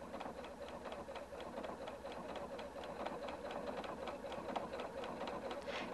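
A Husqvarna Viking Designer 1 sewing machine sews across a patch, running continuously with a quick, even ticking rhythm of the needle, moderately soft and steady throughout.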